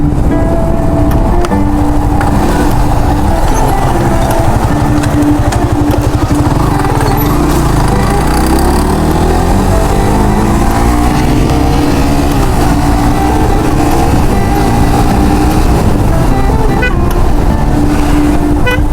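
A loud motorcycle engine drones steadily throughout, its pitch rising and falling as the bike rides along at speed.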